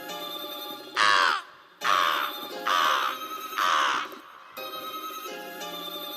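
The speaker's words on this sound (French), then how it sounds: "Oh la mouette." A seagull calls in four loud, harsh bursts over steady background music at a live show, each cry separated by short quieter gaps.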